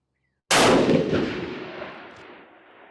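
A single loud, close rifle shot from a 7mm PRC handload at a shooting range, a sharp crack that follows silence and then decays into a long rolling echo.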